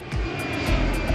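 Airplane engine roar, a dense, loud, steady rush with low rumble, heard up close for about a second and unaccompanied by speech.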